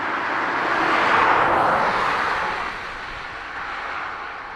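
A Boeing 787 Dreamliner bound for Philadelphia takes off from Dublin Airport, its loud jet roar swelling to a peak and then easing off to a steady, more distant rumble.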